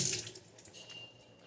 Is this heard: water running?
yes